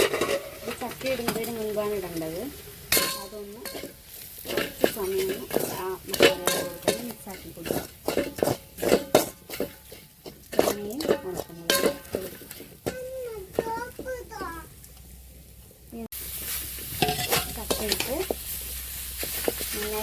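Jackfruit fry with ground coconut and dried chilli is stirred in a pan, giving scraping and clinking utensil strokes over a light sizzle while people talk throughout, including a child.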